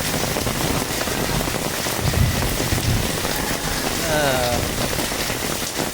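Early monsoon rain falls steadily on a village in Kumbhavade, Rajapur, in the Konkan region of Ratnagiri, a dense continuous hiss of drops on surfaces, close and even throughout with no talk.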